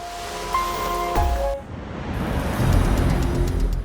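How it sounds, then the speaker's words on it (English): Waves surge over a seawall, a loud broadband roar and wash that swells and sustains, with a tonal engine-like hum fading out early on. "Drivers back away as the waves overtop the seawall."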